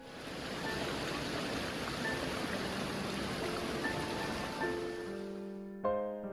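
Steady broadband rush of a river flowing past a stone stepping-bridge in Gyeongju, continuous and even, with a faint tone emerging near the end.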